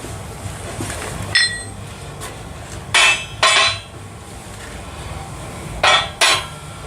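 Heavy steel plates clank down one after another onto a 20-ton shop press, sharp ringing impacts in pairs with quiet shop noise between them.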